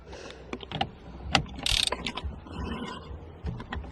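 A ratchet fitted with a 24mm socket and extender turns on a VW Lupo steering wheel, producing rapid mechanical clicking bursts and clanks, close and moderately loud in a small space.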